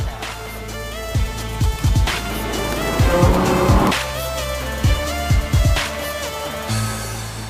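A Lamborghini sports car drives with a loud, close engine roar, repeated sharp revving bursts and changing pitch as it accelerates and shifts, and no voices.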